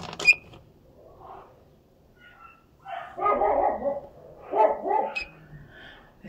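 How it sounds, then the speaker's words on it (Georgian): A dog barks outdoors in a few short bursts around the middle and end, moderately near, over a quiet background with no talk. "ძაღლი იმიტომ იყეფება რომ გარეთ აჩხუბავდნენ"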